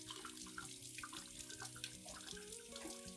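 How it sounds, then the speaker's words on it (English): Tap water running steadily over an orchid's trimmed roots, a continuous soft splashing stream with faint drips, fairly quiet and without talk. "rinse the orchid thoroughly under running water"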